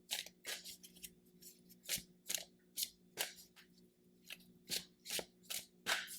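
Tarot cards shuffled and drawn during a pick-a-card reading, a run of about a dozen crisp riffling snaps and slides in quick bursts, close and clear, with no talking.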